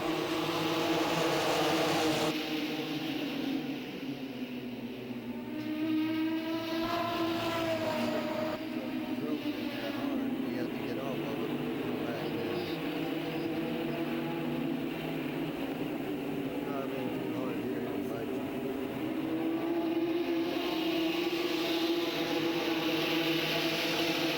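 ARCA Truck Series race trucks at Music City Motorplex in Nashville, Tennessee, drone and whine steadily around the track, engine pitch rising and falling as the pack runs down the back straightaway.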